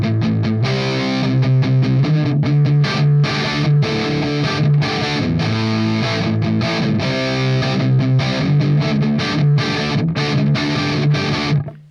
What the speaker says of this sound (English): a little more gain, like say a Soldano amp, so we get a little more dirt